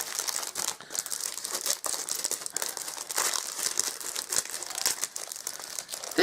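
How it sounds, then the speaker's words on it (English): Plastic wrapping around a pack of crochet books crinkles steadily and close up, with sharp bursts of rustling and crackling continuing throughout and no talking. "sorry for the crinkling."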